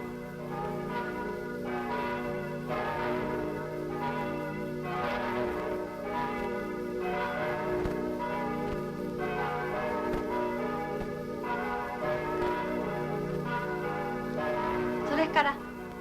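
Church bells pealing over Hiroshima, repeated rhythmic strikes ringing out at a moderate distance with long overlapping resonance, under a faint voice.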